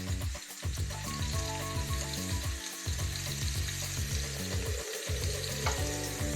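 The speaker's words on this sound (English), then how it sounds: "We're going to go ahead and add the shrimp as well." Shrimp frying on a hot griddle alongside mini tortillas, a loud, continuous sizzle and crackle with some intermittent scraping, close up and without voices.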